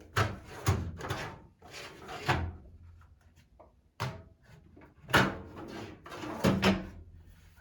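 Metal drawers of a Chicago Electric welding cart from Harbor Freight sliding open and shut several times, with close rattling clunks and scraping runs in irregular bursts.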